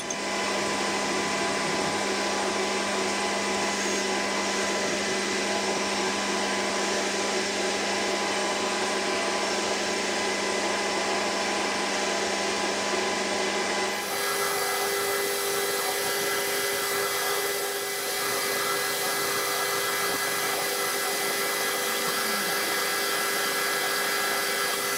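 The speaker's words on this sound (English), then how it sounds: "I just gotta spin that around and turn that center out of it and clean the end up" A metal lathe in a machine shop turns a jig borer part with a continuous, loud motor whine and steady hum, its pitch shifting partway through as the cutting continues, with no voices.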